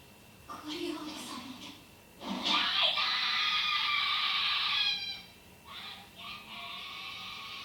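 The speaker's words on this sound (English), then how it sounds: "she's screaming with all of her heart, you know, with all of her soul" An anime character from Attack on Titan screams in a long, high, strained cry with shorter vocal bursts before and after, heard at moderate level with background sound.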